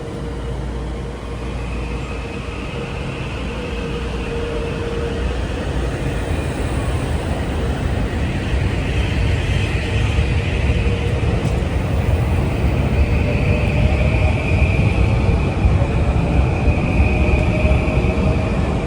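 A Metro North train rumbles through Harlem 125 station on a busy evening, a loud continuous roar of wheels and motors that builds gradually, with faint tonal whines drifting over it.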